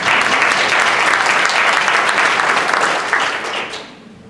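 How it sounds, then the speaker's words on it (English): Loud, close audience applause at a city council candidates night, a dense sustained round of clapping that holds for about three seconds and then tapers away. "I think you need a round of applause."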